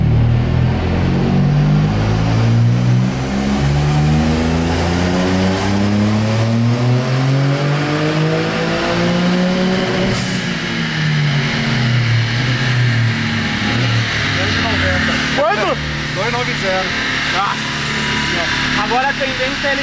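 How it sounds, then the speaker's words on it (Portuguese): A tuned, forged 1.0 TSI Volkswagen Up engine revs hard and repeatedly on a dynamometer, pitch sweeping up and down in loud, sustained roars, with a person talking faintly underneath. "Esse barulho que vocês estão ouvindo aí é o barulho do dinamômetro"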